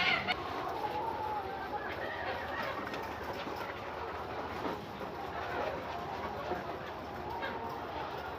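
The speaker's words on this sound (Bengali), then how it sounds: "আপনারা দেখতে পাচ্ছেন এখানে মুরগি রয়েছে, হাজার হাজার মুরগি।" Thousands of chickens in a poultry farm shed keep up a dense, continuous clucking murmur, a distant-sounding crowd of birds with no single call standing out.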